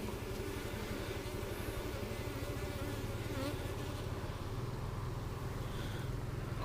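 A dense swarm of honeybees roars with a continuous buzzing drone at an opened backyard hive, close and steady throughout, with no talking.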